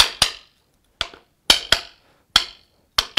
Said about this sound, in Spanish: Se enroscan un poquito y con ayuda de un martillo de nylon